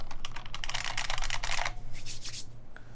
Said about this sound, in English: This is buckling spring.